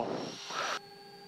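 The engine of a Twin Otter aircraft runs up on the ground before takeoff, a loud broad whining roar that cuts sharply to a lower steady hum with a thin high tone after under a second.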